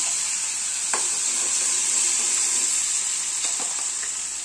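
Curry leaves sizzling steadily in hot oil while chutney is tempered, a continuous bright frying hiss with a few faint pops and clinks of a spoon, close and alone without voices.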